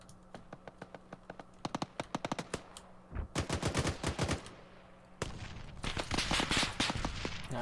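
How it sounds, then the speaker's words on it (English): Gunfire in the video game Arma 3 comes in rapid automatic bursts, first as scattered sharp cracks, then as longer, louder volleys with short gaps between them. No one talks. "Hear gunshots."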